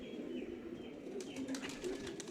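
Pigeons settle on the top of their wooden loft with soft wing flaps and faint cooing, a steady low bird murmur close by with no talk.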